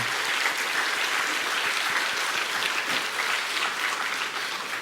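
A church congregation breaks into continuous applause, a dense, even wash of clapping that holds for several seconds.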